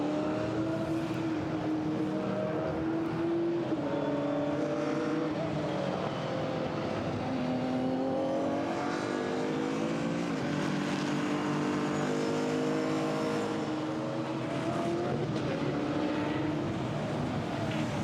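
GT4 race cars, a Chevron among them, lapping the Misano circuit during a European Series race, their engines droning loudly and continuously with rising and falling pitch as they pass, without pause throughout.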